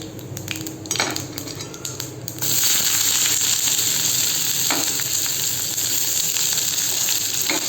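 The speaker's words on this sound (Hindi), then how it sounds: "पहले तो प्याज डाल लूँगी, थोड़ा सा प्याज जब फ्राई हो जाएगा" Onion frying in oil in a pan with a dense, continuous sizzle that swells louder after a couple of seconds, broken by occasional clinks of a utensil against the metal.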